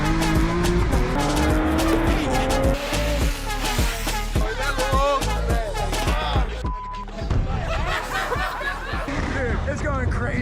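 A car is driven hard at an underground car meet in Brazil, its engine roaring and its tires squealing in skids. Loud voices, laughter and shouting run over the engine throughout.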